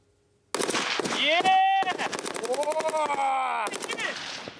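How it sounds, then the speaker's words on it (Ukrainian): Rapid bursts of gunfire crack out loudly and close, shots overlapping in quick succession with sharp reports ringing over one another. "Дрони палають після влучних пострілів артилеристів."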